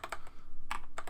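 Typing on a computer keyboard while entering a file path in a code editor setup: quick clusters of close, crisp key clicks in a few short bursts.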